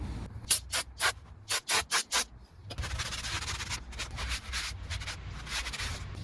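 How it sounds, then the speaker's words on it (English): Several sharp bursts of aerosol cleaner sprayed onto a new Jeep ZJ rear brake rotor in quick succession, followed by a longer continuous hiss of spraying, close by. "spray down the new rotor, get the inside clean for the emergency brake pads"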